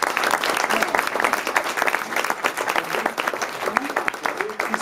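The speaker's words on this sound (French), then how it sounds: "on peut l'applaudir, le régisseur." An audience applauds the stage manager at a live show, with brisk, uneven clapping from a modest crowd rising and dipping throughout, a few louder individual claps standing out.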